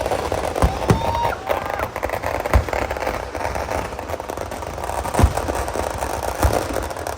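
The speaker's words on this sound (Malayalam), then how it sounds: "ഇനിയാണ് വെടിക്കെട്ട് കേട്ടാ." Fireworks at a temple pooram festival at Thalassery Jagannath temple: sharp bangs and booms burst every second or so over a dense, continuous crackling roar, loud and close.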